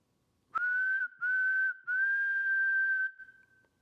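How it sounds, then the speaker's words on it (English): One person whistles inside an old opera house: a clear, steady, near tone in three phrases, two short ones and then a longer held note that fades out, with no talking around it. "I'm going to whistle, and then if somebody can repeat my whistle."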